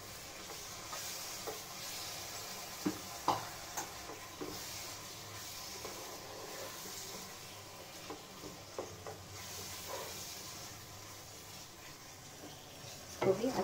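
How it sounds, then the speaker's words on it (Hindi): Chopped tomatoes, four medium ones, go into a hot pan of cooking egg biryani masala and are stirred, giving a steady soft sizzle under scattered spoon scrapes and light pan clinks, with a louder clatter near the end. "टमाटर को भी मैं डाल लेती हूँ"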